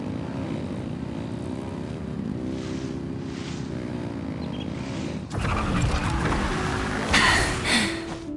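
A droning propeller aircraft engine runs steadily at full throttle in Genshin Impact, then swells into a louder, rougher roar with added rushing noise toward the end.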